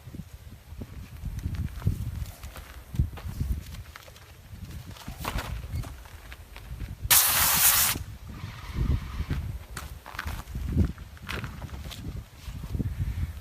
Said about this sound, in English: So I'll do a quick fan here for you.